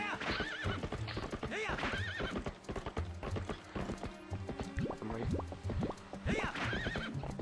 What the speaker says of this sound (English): If you haven't called Epona by the time that you've crossed the bridge, don't worry, there's horse grass there.